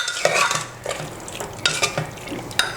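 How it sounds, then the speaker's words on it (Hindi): A spoon stirs raw jackfruit curry with softened potato and garam masala in a pan, making repeated close scraping strokes over a light sizzle. "और अब हम इसमें थोड़ा सा गरम मसाला डालेंगे और इसको अच्छे से मिक्स कर लेंगे।"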